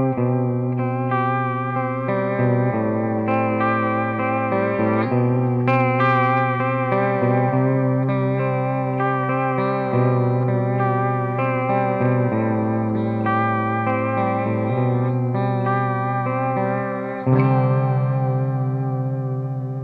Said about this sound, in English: In this example, I'm using a very slow vibrato with increased depth to give me almost a chorus-like sound